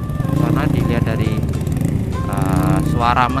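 Yamaha New Vixion motorcycle engines rumble steadily with revving pitch changes, close by, at a Sunday morning ride gathering in Kaliurang, Yogyakarta, while people talk over the noise.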